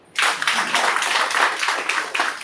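An indoor audience at a business plan presentation breaks into loud, dense clapping that starts abruptly and sustains evenly as a close, continuous round of applause.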